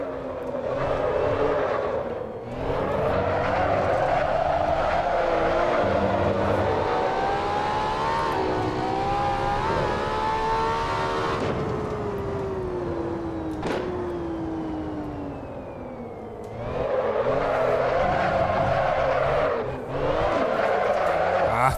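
A simulated LaFerrari drifts around the Paul Ricard circuit in the racing game Assetto Corsa. The engine roars loudly and steadily, its pitch rising and falling, while the tires squeal throughout.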